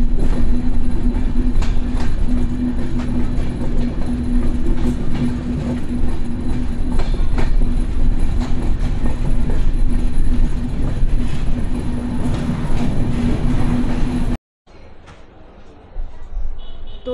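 The Drutojan Express train entering Tangail station: a loud, steady rumble of wheels and carriages with faint clicks, heard from inside, then cutting to a quieter scene near the end.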